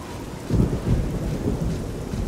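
Steady rain falls in The Elder Scrolls IV: Oblivion, a dense wash of drops with low rumbling swells like distant thunder, continuous and fairly loud throughout with no talk.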